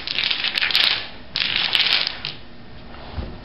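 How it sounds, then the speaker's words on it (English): Dominoes clatter and rattle in two dense bursts as they are shaken and shuffled across a tabletop, followed by quieter scattered clicks. "Chris, will you shake the dominoes? This is called shaking. We're just agitating and mixing."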